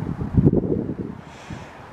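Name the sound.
wind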